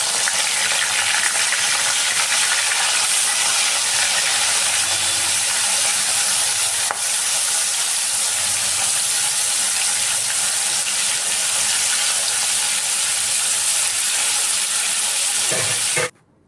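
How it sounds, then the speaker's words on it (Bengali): Prawns frying in hot mustard oil in a wok give a loud, continuous hiss and sizzle lasting the whole stretch, then cutting off abruptly at the end. "তেল ভালো করে গরম হয়ে গেলে আমি দিয়ে দেবো চিংড়ি মাছগুলো"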